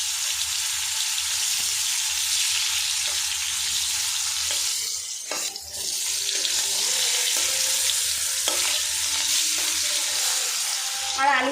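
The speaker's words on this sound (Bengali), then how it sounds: "এই তেলের মধ্যে প্রথমে আলুগুলো আমি লাল লাল করে ভেজে নেব।" Potatoes frying in hot white oil in a wok, a steady bright sizzle that runs almost the whole time, broken by a brief dip and a few clinks as the pieces are moved.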